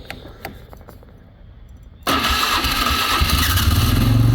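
A backhoe engine that has been slow to start cranks a few times, then catches and fires into a loud, steady diesel-like running rumble that continues to the end.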